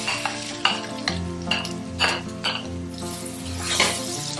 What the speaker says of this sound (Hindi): जब ये थोड़ा सा फ्राई होने लगे फिर आपने इसमें प्याज ऐड कर देनी है।